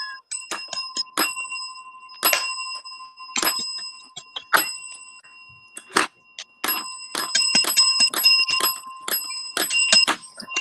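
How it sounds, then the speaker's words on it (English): Small bells rung repeatedly in quick, irregular bursts, bright metallic dings with ringing overtones, close and alone, clustering into rapid flurries toward the end. "How many bells can I ring on this one?"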